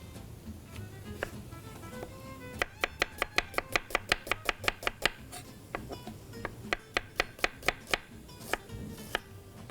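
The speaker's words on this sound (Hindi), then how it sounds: "एक प्याज में और काटूंगी।" A knife chops an onion on a board in a fast, even run of crisp taps. A slower scattering of cuts comes before and after the run.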